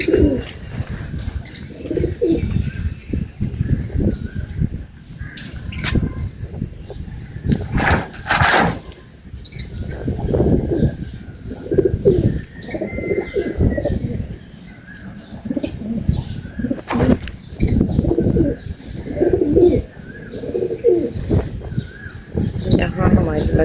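Pigeons coo in soft repeated bursts close by in Pakistan, with occasional wing flaps and chirps, while someone talks over them.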